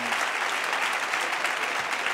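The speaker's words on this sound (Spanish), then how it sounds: "Déjeles que me aplaudan" Studio audience at a 1988 Spanish television variety show bursts into brief, dense applause, steady clapping filling the short moment with no speech over it.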